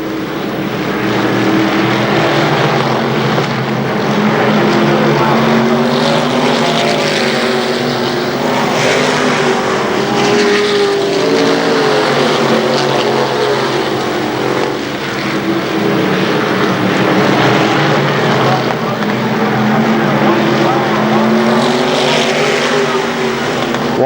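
Stock race cars racing side by side at KilKare Speedway, a loud, dense, continuous engine roar from a pack of cars circling the track with no voices.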